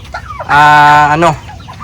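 A month-old chick in a new range area gives one loud, close, drawn-out call lasting under a second, with faint chirps before and after.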